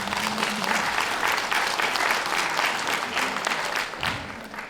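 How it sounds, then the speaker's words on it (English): Loud, sustained crowd applause at a dog grooming demonstration, full and even for nearly five seconds with a faint voice near the start and end. "That deserves a round of applause"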